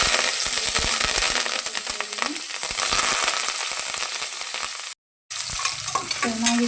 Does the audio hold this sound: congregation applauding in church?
no